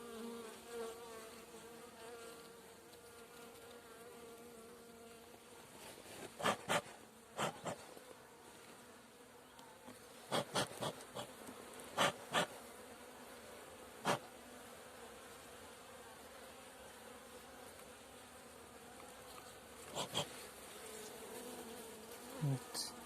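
Carniolan honeybees hum steadily at an open beehive, a soft continuous buzz with occasional louder close passes of single bees and faint handling noises.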